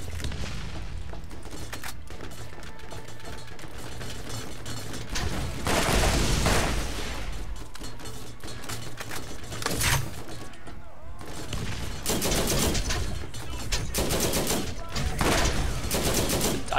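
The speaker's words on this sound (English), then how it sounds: "I just hear the turret going off" Turret gunfire in the video game Borderlands comes as rapid bursts of shots and booms with frequent louder volleys, layered over other game sounds while players talk throughout.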